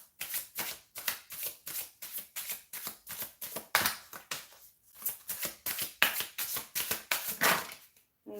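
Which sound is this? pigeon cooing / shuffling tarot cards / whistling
shuffling tarot cards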